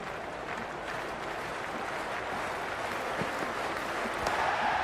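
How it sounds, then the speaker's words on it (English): A packed cricket stadium crowd at the T20 World Cup semi final between India and England roars and applauds in a dense, steady wash from distance, unbroken for several seconds. "this crowd is already making it hard for me to be heard."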